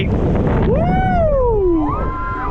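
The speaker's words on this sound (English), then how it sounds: "It's a bit windy." Strong wind buffets the microphone at Southport Pleasureland amusement park, a loud, constant low rumble with a whistling, gliding voice-like tone running over it.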